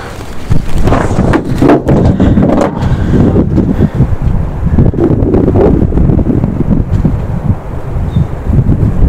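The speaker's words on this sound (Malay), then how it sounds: "Angin." Seaside wind buffets the microphone with loud, continuous rumbling gusts that surge and dip unevenly throughout, with no talking.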